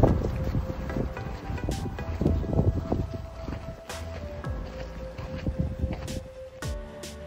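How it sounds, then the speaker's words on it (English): Strong wind gusts across the microphone on a hiking trail at Mount St. Helens, a rough rumbling buffet with sharp bursts, and a faint sustained tone hums beneath it. "it was so windy"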